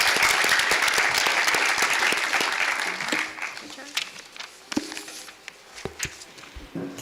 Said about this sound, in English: let's have one more round of applause to congratulate our Pennsbury Lift Award winners